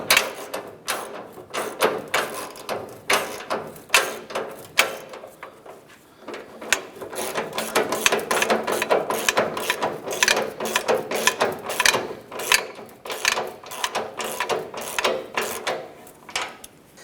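A ratchet wrench clicks in quick repeated bursts, tightening the mounting nut on a fuel tank strap of a 1994-2004 Chevy S10, close and fairly quiet, with short pauses between runs of clicks.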